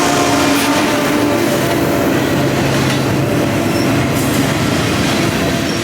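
A Union Pacific freight train with a mid-train DPU locomotive, a C45AH T4, rolls past close by, a loud continuous roar of wheels and rumbling cars with a steady tonal hum and occasional high squeal.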